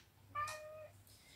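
A single short cat meow in a home kitchen, fairly faint and alone, with a quiet low hum behind it.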